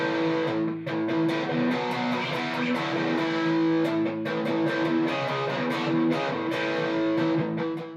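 Sustained overdriven electric guitar chords ring out loud and continuous through a Marshall amp's overdrive channel, with a gritty distorted tone and rhythmic picking throughout.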